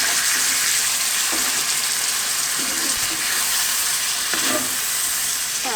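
Crushed tomatoes with oregano bubble and sizzle loudly in a one-pot chicken and potato dish, a dense steady frying hiss with occasional soft scraping as the mixture is stirred.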